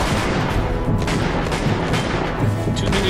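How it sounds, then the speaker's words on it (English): Blind-fire gunshots in the video game Uncharted: Golden Abyss, dense continuous gunfire and booms filling the whole stretch at a steady loud level with no talking. "Use blind fire to push them back while staying safe yourself behind cover"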